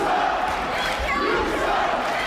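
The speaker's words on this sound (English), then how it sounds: "this crowd's letting Jessie know what they think of her" Jeering crowd at a women's wrestling event in Los Angeles: a steady, loud roar of many voices with shouts rising over it, sustained without a break.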